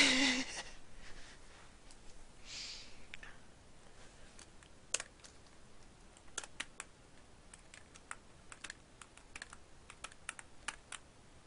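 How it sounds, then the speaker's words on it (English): Steady bursts of key clicks from a computer keyboard while text is entered during a Marble Madness speedrun, the taps close and fairly quiet, coming in irregular clusters with short pauses over a faint background hiss. "I'm just gonna type interesting into everything."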